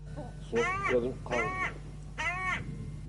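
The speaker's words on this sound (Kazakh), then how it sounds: "сосын кәдімгі қарғаның дауысы қарқылдайды" A crow in Karaganda caws three times, each call harsh and drawn out, separated by short pauses against a quiet background.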